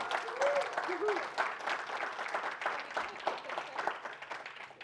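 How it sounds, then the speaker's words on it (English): An audience at a conference breakout session breaks into applause, a dense, moderately loud patter of many hands that swells and eases slightly, with a brief voice audible early on. "give them a round of applause"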